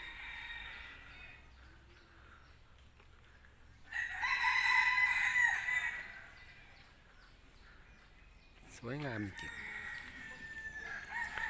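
A bantam rooster crows loudly and close by among peacocks at a temple, one full drawn-out call in the middle, with someone talking quietly before and after it and a brief squawk near the end.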